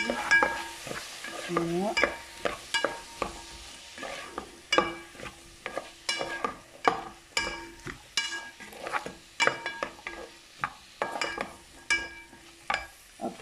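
Carrot achar is stirred in a pan with cumin and pepper, giving a steady run of sharp scraping and clinking strokes over a soft sizzle, close and fairly loud; one short word is spoken briefly.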